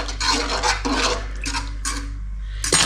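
Egg is spread around a pan of Yemeni chicken saltah with a utensil, giving close, continuous scraping and clinking against the pan under a steady low hum.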